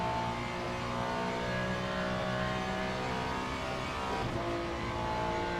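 GT3 race cars, a Ferrari among them, lapping in the sim racing game Le Mans Ultimate: a steady, loud engine drone with rising revs and a car sweeping past near the end.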